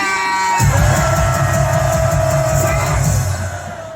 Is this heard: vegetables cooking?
no